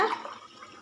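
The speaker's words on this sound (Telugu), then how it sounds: "ఇప్పుడు కొబ్బరి పాలు పోసుకుందాం." Coconut milk poured into a pot of rice for coconut rice, a short liquid splash and trickle that fades quickly, close by with no talk.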